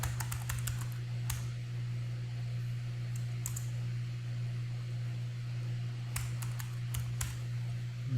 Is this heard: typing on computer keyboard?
yes